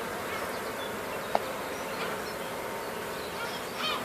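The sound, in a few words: honey bees buzzing around beehive brood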